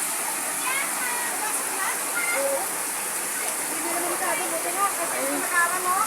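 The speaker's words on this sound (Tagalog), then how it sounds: "Grabe na dito, guys, yung baha." Floodwater rushes in a steady, broad roar throughout, with a continuous loud wash close by, and frantic voices calling out over it.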